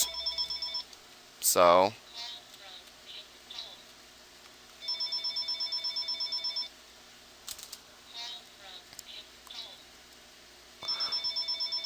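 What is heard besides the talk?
phone ringing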